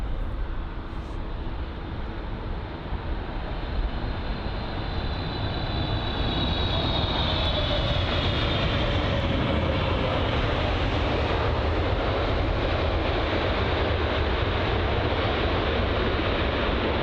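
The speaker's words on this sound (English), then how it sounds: "it's the American Airlines Boeing 777-300 from LAX, Los Angeles" An American Airlines Boeing 777-300 in from Los Angeles at London Heathrow, a loud, steady jet roar that swells slightly as it passes, with a faint whine riding over the broad rumble.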